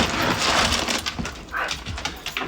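Several excited pet dogs whimper and whine while their dinner bowls are readied, short high cries and snuffles repeating over steady background noise for a couple of seconds.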